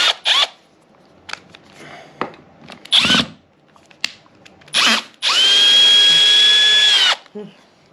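Power drill backing a wood screw out of a staircase newel post: several short whirring bursts and clicks, then a sustained loud, steady spin of about two seconds, close up.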